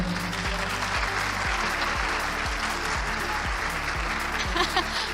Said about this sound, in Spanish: Este auditorio recibe hoy con un fuerte aplauso a Victoria Daona.